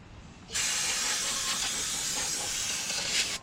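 A can of Super Tech brake part cleaner sprays in one steady, loud, close hiss lasting about three seconds while working on a Chevy G20 wheel cylinder, with no talk.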